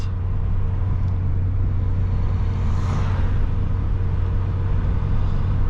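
A manual car with a very flat battery drives along at about 2,700 RPM, giving a steady, loud engine drone and road rumble that holds even throughout, with no talking.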